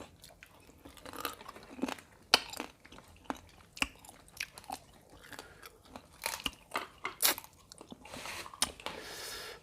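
Crisp crunchy bites and wet chewing of lotus stem eaten with Thai spicy salad, a quick irregular series of close, sharp snaps and squishes with no speech.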